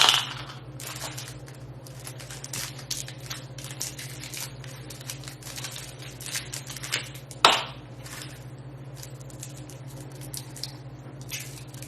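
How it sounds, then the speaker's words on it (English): Candy wrappers crinkle and snap as pieces of candy are unwrapped, scattered sharp crackles with one louder rip midway, over a steady low hum and without speech. "Unwrapping all of this candy"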